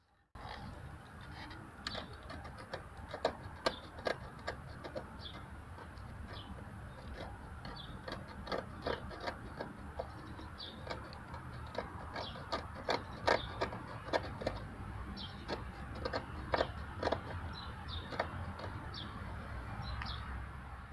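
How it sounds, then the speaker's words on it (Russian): Scraping away paint around chips on the body of a Honda Fit Shuttle, heard as quiet, rapid, irregular scratching strokes with a steady background hiss, close up and faint. "Итак, поехали царапать."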